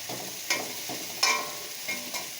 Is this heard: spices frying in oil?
yes